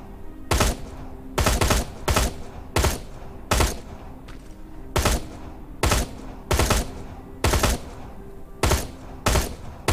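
A weapon fires repeatedly in Terminator Resistance, a gun that drops when shooting, with about a dozen loud, evenly spaced shots, some paired, ringing out alone at a steady rhythm.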